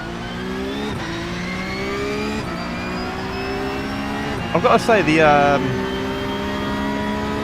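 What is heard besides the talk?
race car engine with whistle in iRacing video game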